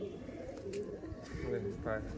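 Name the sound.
pigeons cooing in a breeding room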